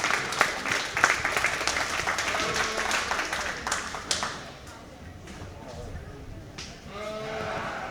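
Applause at a junior fair sheep show in a barn, clapping that fades after a few seconds, followed by sheep bleating and faint voices in the background.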